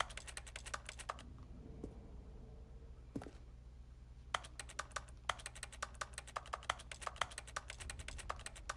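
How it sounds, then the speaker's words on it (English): Rapid keyboard typing comes from the video game The Stanley Parable. Close, crisp key clicks run in quick bursts with a brief pause, and a low hum sits underneath. "It sounds like I'm typing."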